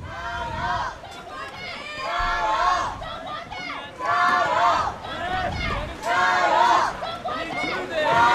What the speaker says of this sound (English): Absolutely fantastic noise from the crowd.